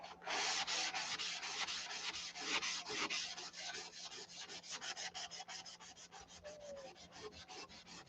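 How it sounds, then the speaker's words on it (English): Rapid rhythmic strokes of hand sanding rasp against a gritty surface, steady and close, continuing without pause. "if you listen there, you can hear it kind of gritty. So we're going to sand until that sound goes away"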